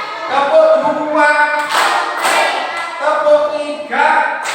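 Children in a classroom clap on command in a counting clap game, several bursts of group claps at different points, with a teacher's voice between them.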